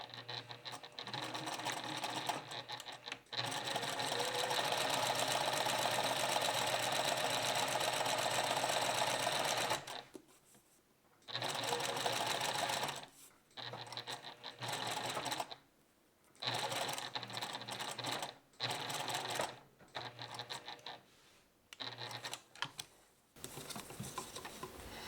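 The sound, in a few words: sewing machine stitching a dart beside sandpaper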